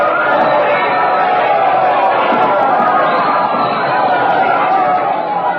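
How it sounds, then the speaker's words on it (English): A large crowd gathered to greet the Queen bursts into a sustained ovation, a dense continuous roar of cheering and chatter that stays loud and even from start to finish with no pauses. "The crowd has seen her. They're cheering. Listen to that ovation."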